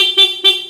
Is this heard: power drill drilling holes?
no